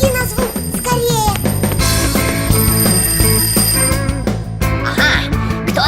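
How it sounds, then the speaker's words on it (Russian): A cartoon alarm clock rings in an animated children's show, its bright, rapid bell-like tones mixed into a busy, loud musical score that plays continuously throughout. "Симка, кажется, звонит мой будильник."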